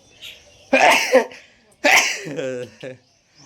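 Two loud sneezes in a row, close up, followed by a short sniffle or breath.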